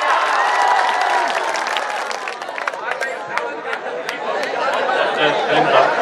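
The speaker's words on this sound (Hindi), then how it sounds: "जिंदाबाद जिंदाबाद, तालियां।" A crowd claps and cheers in sustained applause at a poetry recital, with voices calling out over the sharp, scattered handclaps.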